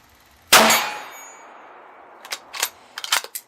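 A steel silhouette target plate rung by a 7.62x39 bullet from a CZ 527 bolt-action rifle: one loud, sharp metallic clang that rings and slowly fades, followed by a few quieter, distant cracks and knocks.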